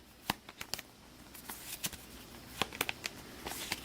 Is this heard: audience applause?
no